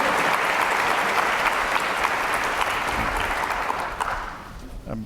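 An audience applauds to welcome Secretary James A. Baker III and Chris Whipple at a talk on White House chiefs of staff. The clapping is dense and sustained, then tapers off near the end.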